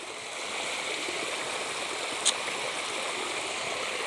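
Water flowing steadily in a stream during a search for a diamond deposit, a constant close rushing and trickling wash with one brief faint click midway.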